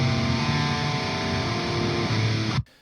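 Dense, loud high-gain electric guitar through a Dual Rectifier amp simulation (Dual Rec 5 capture), sustained heavy chugging riff that rings continuously and then cuts off abruptly near the end.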